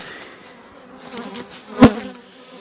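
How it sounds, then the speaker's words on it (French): An Asian hornet flies near beehives in an apiary, its buzzing faint and wavering before a single sharp knock stands out near the end. "Alors, frelon asiatique qui vient, mais vraiment très peu."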